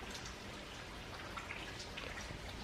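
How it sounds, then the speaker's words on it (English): Rain falling outside an open door, a steady soft patter of drops with a constant hiss that stays even and fairly quiet throughout, with no voices. "Can you hear that rain?"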